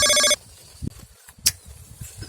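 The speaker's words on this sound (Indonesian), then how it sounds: "telepon dari rekan bisnis" A telephone rings with an incoming call in one short electronic burst, then cuts off, leaving low background noise and faint thumps.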